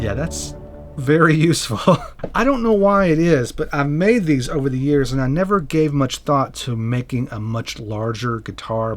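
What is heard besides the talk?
No everyday noises stand out.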